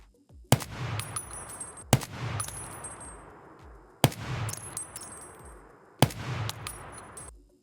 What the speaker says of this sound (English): We can have a look here if I compare the two side by side in single shots.